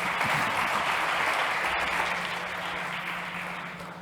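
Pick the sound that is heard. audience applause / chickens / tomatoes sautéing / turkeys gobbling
audience applause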